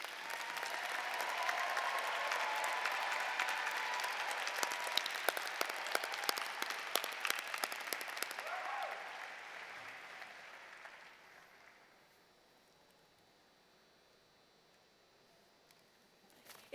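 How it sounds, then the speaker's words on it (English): Commencement audience applauding doctoral degree recipients at a university ceremony, a broad sustained roar of clapping hands in a large hall that swells, then fades to near quiet, with a brief sound at the very end. "Please give a round of applause to our doctoral degree recipients."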